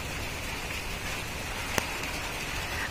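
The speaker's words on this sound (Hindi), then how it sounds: "ये देखिए बारिश हो रही है।" Steady rain falls outdoors as a constant hiss of drops on surfaces, even and unbroken, with one brief sharp tap midway.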